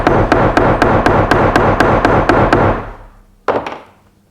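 A hammer taps a pricking iron into leather with about ten sharp, evenly spaced close knocks, then a pause and one more heavy strike that rings off.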